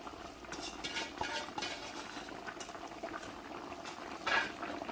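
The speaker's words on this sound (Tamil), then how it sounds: "அரிசி போட்டாச்சு. இப்போ வந்து நம்ம கலக்க போகிறோம்." Rice stirred in a pot outdoors, a steady bubbling, scraping wash with clinks of a utensil against the pot and a brief louder scrape near the end, no voices.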